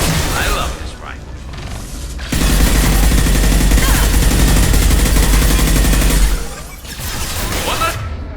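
Rifle gunfire in Mass Effect Legendary Edition: a loud, sustained burst of rapid automatic fire lasting about four seconds, preceded and followed by quieter game ambience.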